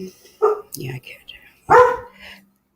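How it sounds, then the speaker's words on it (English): A dog barks in a few sharp yips and one louder bark, close by and indoors at home during a call. "Oh, there goes my dog."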